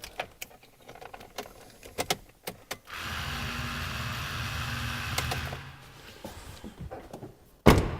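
A portable 12V tyre inflator plugged into a car's cigarette lighter runs for about three seconds with a steady, buzzing motor hum. Clicks and handling knocks come before it, and a sharp thump follows.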